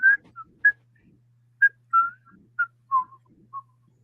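Someone whistles a tune from Grease in short clear notes and brief phrases, close and alone with no talk.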